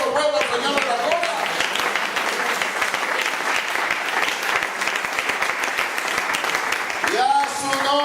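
A church congregation applauds loudly and steadily, dense clapping filling the space, with voices rising briefly at the start and end.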